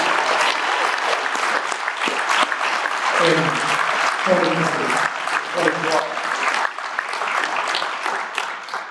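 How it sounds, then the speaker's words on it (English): An audience at a Citizen of the Year award event gives a sustained round of applause for the recipient. The clapping is loud and continuous, with voices rising briefly through it midway. "why don't we give him a round of applause that he never received?"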